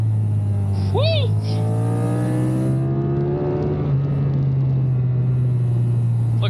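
A Triumph Tiger 1200 Rally Pro, a 1200cc adventure motorcycle, revving and accelerating on a ride, with a loud rising engine tone climbing steadily under wind rush and a brief whoop from the rider.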